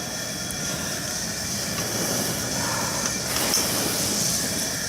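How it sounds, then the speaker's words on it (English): Maple tree sap boiling hard and giving off steam, a steady, loud roaring hiss with a low rumble underneath that holds even for the whole stretch, with no talking. "And we're making steam."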